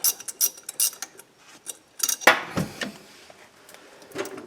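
A ratchet clicks in short bursts while the alternator is adjusted on a 2004 Toyota Sienna 3.3L during timing belt installation, with sharp metallic clacks and one louder clunk, close by and with no talking.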